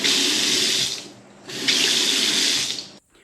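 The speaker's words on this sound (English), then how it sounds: "when you open the tap or any of the facilities, the pressure drops in the plumbing system, it calls for water, the pump kicks in" A household tap fed by an on-demand pump in an off-grid house runs water in a steady rushing stream, stops briefly, then flows again before shutting off abruptly, close and clear with no talking.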